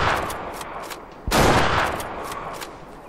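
Rifle fire in the hunting video game Way of the Hunter, set in Transylvania during a wild boar hunt: one loud, sharp shot that decays over about a second, with a few fainter cracks before and after.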